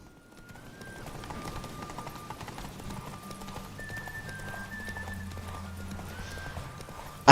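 Roach, the horse in The Witcher 3, gallops with steady clip-clop hoofbeats under a soft game music drone, fairly quiet and continuous before a sharp sound at the end.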